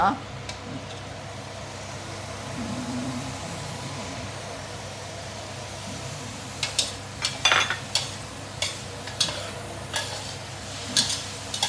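Long beans and minced pork stir-frying over low heat in a wok, a soft steady sizzle with a run of sharp spatula scrapes and clacks in the second half.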